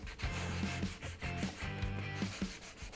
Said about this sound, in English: When you are sanding these things,